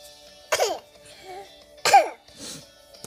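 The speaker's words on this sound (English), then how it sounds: "Ah, man, I have a terrible cough." Two sharp, close coughs about a second apart from a person with a bad cough, each followed by a brief softer throaty sound, in a quiet room.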